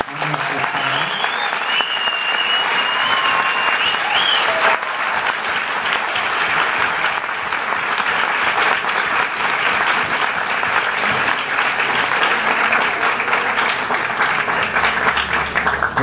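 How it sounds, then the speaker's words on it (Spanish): Strong, sustained applause from an audience honouring an expert panel on climate change in Colombia, steady dense clapping for about sixteen seconds at an even loudness, with faint voices underneath. "entonces yo quisiera que por favor le demos un fuerte aplauso"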